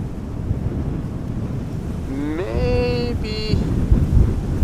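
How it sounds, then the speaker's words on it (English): Breezy wind buffets the microphone outdoors at Amsterdam Schiphol Airport on a summer evening, a steady low rumble throughout, with a brief rising whistling tone near the middle. "Bit breezy over here"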